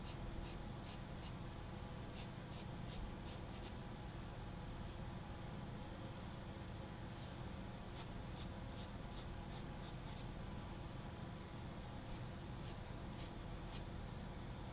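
A charcoal pencil makes short drawing marks on paper while horses are sketched, faint rhythmic scratchy strokes in quick bursts over a steady background hiss, with no talking.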